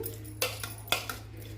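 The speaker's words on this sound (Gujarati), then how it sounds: "આ રીતના તમારે ચમચાના ઉપયોગથી તમારે આ થાણાને હલાવવાનું છે" A spoon stirs jaggery mango pickle in a metal pot, giving a few sharp clinks and scrapes against the side spaced irregularly, faint and close with no talk.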